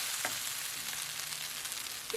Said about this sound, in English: just leave that on a medium-ish heat for it to fry up. Keep stirring